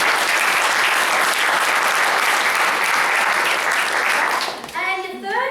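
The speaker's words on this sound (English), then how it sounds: "Give a round of applause to second judge at Adam Steer" Loud, dense audience applause for a judge at a Three Minute Thesis competition, sustained and even before fading, then a voice starts speaking near the end.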